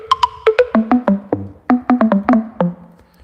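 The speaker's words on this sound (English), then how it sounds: "I have this log drum sample" A melodic run of short, pitched log drum sample hits, about a dozen plucky wooden tones stepping down in pitch, played alone and close.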